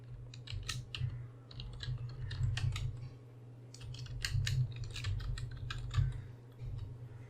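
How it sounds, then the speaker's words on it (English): Quick irregular keystrokes clatter on a computer keyboard, close and fairly quiet, in bursts of clicks over a low steady hum. "Type whatever you want."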